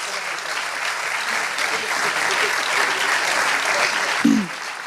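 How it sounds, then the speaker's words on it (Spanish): Steady applause from an audience at a Christian conference round-table panel in Spain, dense and sustained throughout, with a brief voice near the end. "Así que un aplauso a Pablo Ginés y a esta mesa redonda."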